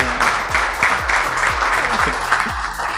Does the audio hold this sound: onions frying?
no